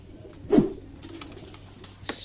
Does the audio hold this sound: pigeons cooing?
yes